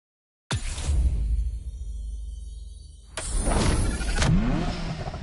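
A Ferrari F40 engine revs hard as the car drives, a loud close roar that swells, eases off, then climbs again in a second sharp surge, with no voices.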